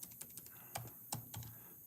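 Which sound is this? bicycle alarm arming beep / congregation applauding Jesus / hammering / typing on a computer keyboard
typing on a computer keyboard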